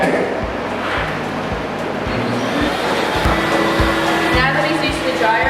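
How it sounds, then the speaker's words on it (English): A K9000 dog wash blow dryer runs on its low setting at a caravan park, a steady whooshing motor drone with faint thumps and shifts in tone, close and fairly loud. "We'll start with the low setting to make sure your dog adjusts to the blow dryer."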